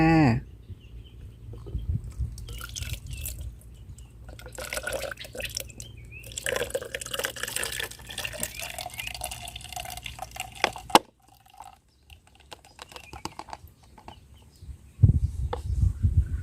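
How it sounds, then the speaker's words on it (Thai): Liquid is poured and strained through a metal sieve, giving trickling, dripping water with splashes and clattering handling noises, moderately close, fading to sparse drips near the end. "เราก็กรองเอาแต่น้ำเลยค่ะ"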